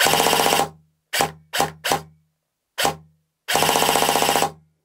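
Airsoft replica fitted with an Ama Tsu Maru ETU firing full-auto bursts: a long rapid burst, three short bursts, a single short burst, then another long burst, loud and close with no talking.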